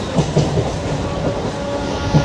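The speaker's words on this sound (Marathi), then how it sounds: "आपण बसलो आता ट्रेनमध्ये" Rumble of a moving Mumbai local train heard from inside the carriage, with steady rolling noise and rhythmic clickety-clack of wheels over rail joints, loud and close with no talking.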